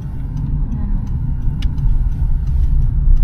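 Cars pass on a busy road near a Walmart, a low, swelling rumble that grows louder toward the end, with people talking nearby.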